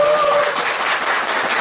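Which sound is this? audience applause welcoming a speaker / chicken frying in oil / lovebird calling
audience applause welcoming a speaker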